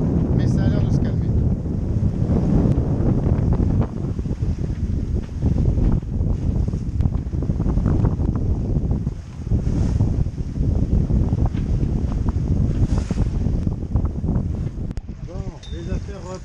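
Strong wind buffets a sailboat at sea in apparent winds around 17 knots, a loud continuous roar with gusting rushes and flapping against the microphone, with water noise beneath it throughout.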